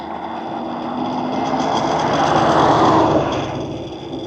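A Mooncool TK Pro electric trike runs on throttle alone up a hill, giving a steady high motor whine over rolling tyre and wind noise. The whine swells a little toward the middle and eases off near the end.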